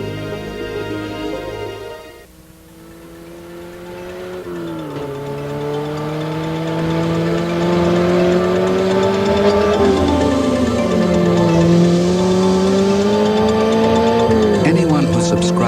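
A Porsche engine in a 1988 TV commercial hums steadily and rises and falls in pitch through gear changes and cornering, loud and continuous under voiceover talk.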